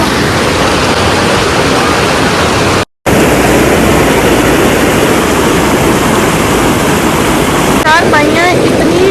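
Ice-cold mountain river water rushing under pressure past iron-legged seating in a valley near Naran, a loud, dense, unbroken roar with a brief dropout and a faint voice near the end.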